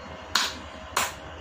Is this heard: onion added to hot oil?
no